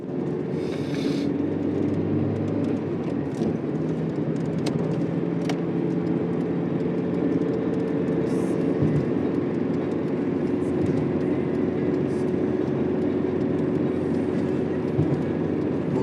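A Chevrolet Corsa with 202,000 km drives on a long highway trip, its engine droning steadily under loud, constant road and cabin noise with no talking.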